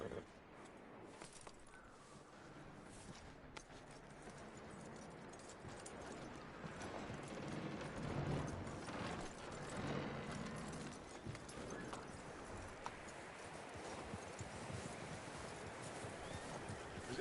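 Horse hooves clip-clop in a quiet Red Dead Redemption 2 scene, a continuous faint rhythmic trot on dirt with soft ambient rustle and an occasional snort, heard from close by.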